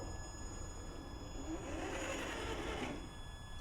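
A Traxxas RC car motor is pushed to more throttle, a faint whine that swells and builds over a couple of seconds against quiet surroundings, then eases off.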